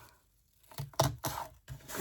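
Packing tape is torn from a roll in a few quick, soft ripping bursts at close range, quiet and brief after a moment of near silence.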